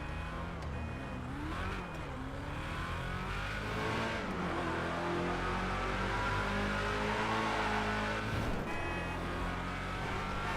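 A 1930s Vapid Hustler hot rod engine in Grand Theft Auto 5 revs and roars continuously, pitch rising and falling as it accelerates and shifts.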